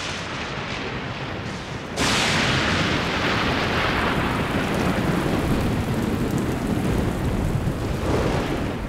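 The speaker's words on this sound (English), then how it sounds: "As the downpour begins, the parched ground absorbs every drop." Heavy rain suddenly erupts into a dense, roaring downpour on parched ground on Zambia's Liuwa Plain, steady and loud, with a rumbling low undertone throughout.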